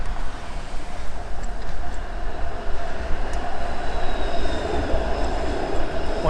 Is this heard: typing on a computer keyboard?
no